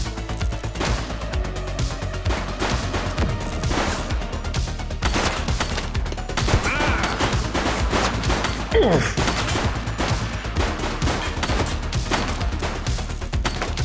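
Sustained bursts of rapid gunfire from a suspect in the police video game The Precinct, dense and continuous for the whole stretch, with scattered crashes mixed into the shooting.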